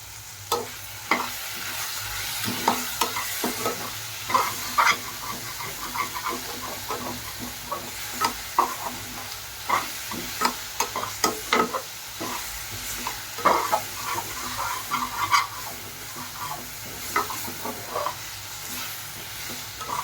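Tomatoes sautéing with a little salt in a pan for chicken biryani: a constant soft sizzle broken by frequent sharp scrapes and clacks as a utensil stirs them, close and alone with no talk.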